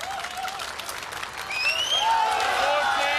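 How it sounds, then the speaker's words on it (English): A strongman contest crowd at the 2005 World's Strongest Man heat cheers and applauds, rising louder midway as whoops and shouts ring out over steady clapping, with a commentator's voice faint beneath. "Listen to that crowd."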